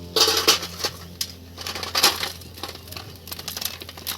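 Sugar-coated murali snacks poured into a container, giving a bright crinkling, clattering rattle of small hard pieces in quick bursts, loud and close, with no talk.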